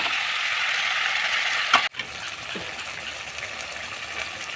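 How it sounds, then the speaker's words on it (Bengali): Meat frying with ground ginger and coriander paste and spices, a steady broadband sizzle with a brief scrape of stirring partway through, close and continuous. "এখন একটু নাড়বো, মাংসগুলো ভালো করে নেড়ে চেড়ে কষিয়ে নেব।"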